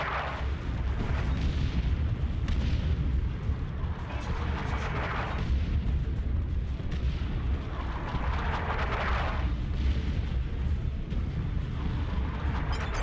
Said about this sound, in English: Artillery, clear the area